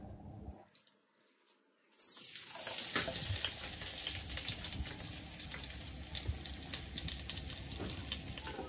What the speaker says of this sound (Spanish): Ya mi cazuela ya está con su aceitito bien caliente.